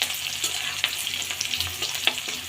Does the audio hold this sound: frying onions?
yes